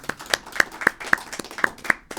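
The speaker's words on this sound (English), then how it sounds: "let's give a round of applause, you guys, to this amazing power couple, Matt and Teryhn." Several people in a small audience clap for a couple at a talk. The claps come in a steady, sparse rhythm of distinct, fairly close hand claps over about two seconds.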